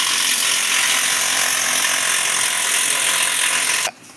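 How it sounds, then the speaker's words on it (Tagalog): A noisy belt tensioner whirs and rattles in a running Toyota Vios engine, a steady loud mechanical chatter that holds unbroken for about four seconds and then cuts off abruptly. "Ang issue naman ito, maingay tensioner."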